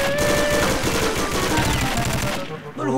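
Rapid gunfire from the Thai shooter game Reloaded rattles loud and dense through most of the moment, with excited voices talking over the shots before it cuts off.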